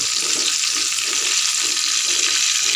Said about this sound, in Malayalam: എണ്ണ ചൂടായി വരുന്നുണ്ട് അതിനകത്തേക്ക് നമുക്ക് കുറച്ച് കടുക് ഇട്ട് കൊടുക്കാം